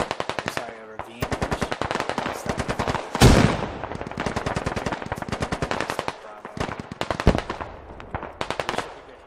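Sustained automatic gunfire in the video game Squad, with rapid bursts of shots that come close and loud and pause briefly between bursts, with one heavier blast near the middle.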